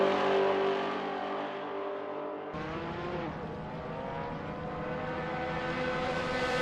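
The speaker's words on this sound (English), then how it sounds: "the Class 1 cars of Shepard and Cooper just had an unfortunate run-in with one of the entries in a Porsche 906" Race cars at Le Mans, including a Ford GT40 and a Porsche 906, roar continuously with loud engine drone and a rising rev as one passes close, no talk.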